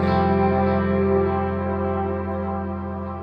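Sustained electric guitar chord ringing through an echo effect unit, with layered repeating tones blending into a lush wash that slowly fades, played alone without any voice.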